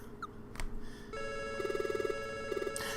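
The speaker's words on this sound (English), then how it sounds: "apparently that's a train thing. They send out a signal when the train is about to leave." A train departure signal chime plays in a video game, with short ringing electronic tones that pulse in quick bursts, a little like a phone ringing, set over a quiet game background.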